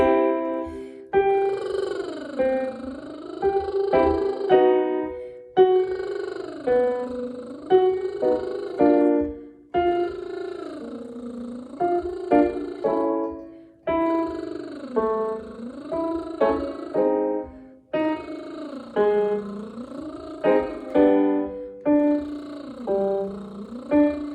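A singer glides up and down in repeated vocal slides, each phrase swooping from high to low and back, with short pauses between repetitions.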